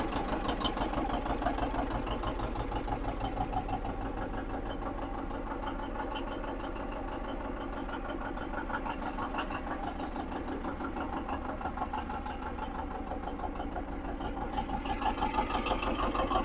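A John Deere 720 diesel tractor idles nearby with a steady low chugging rumble and rhythmic knock that stays constant throughout.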